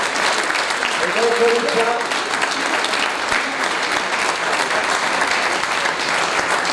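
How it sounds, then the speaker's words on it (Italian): Audience applauding an alpine choir at a choral festival, a dense, loud, steady clapping that carries on throughout while a presenter speaks over it. "A rendere ancora più caldo questo applauso."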